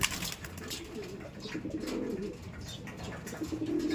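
Soft coos from racing pigeons eating small seeds repeat amid a busy background of rustling and faint chirps, the birds close by and moderately quiet.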